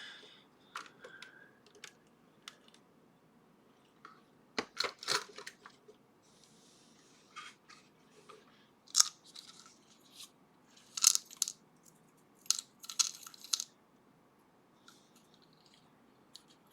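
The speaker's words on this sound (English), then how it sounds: "I should probably shim this." Metal shims worked into a Kale Kilit 164 BNE lock give a run of small, sharp, close clicks and scrapes in uneven bursts, with quiet gaps between them.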